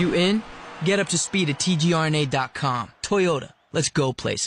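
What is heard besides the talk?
No distinct noise like a dog, phone or traffic.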